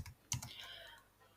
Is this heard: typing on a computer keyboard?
yes